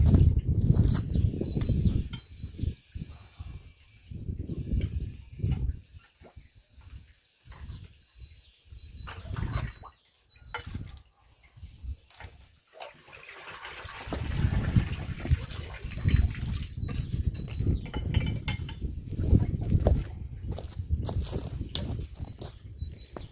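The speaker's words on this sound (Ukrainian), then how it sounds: "тепер за допомогою палиці витягуємо насос" Water gushing and dripping as a sewage pump is lifted out of a pit with a stick, irregular splashes and sloshing knocks, fairly close, with no talk.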